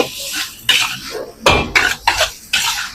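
Metal utensil scraping and tapping in a pan while fried rice with cooked egg and butter is stirred, five or six separate bursts of clatter in close succession.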